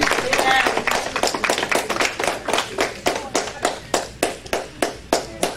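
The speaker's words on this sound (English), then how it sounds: "Clap hand for that." Hands clapping in a church gathering, a strong rhythmic beat of regular, evenly spaced claps that starts fuller and thins to distinct individual strikes, close and loud, with voices mixed in.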